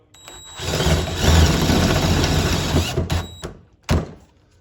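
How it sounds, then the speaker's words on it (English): A handheld power drill runs at about half throttle, boring a hole with light to medium pressure; a steady whirring drone holds for roughly three seconds, then cuts out and gives a short final burst, close and loud with no talk. "we're gonna start at that same hole, same technique, light to medium pressure, half throttle or so"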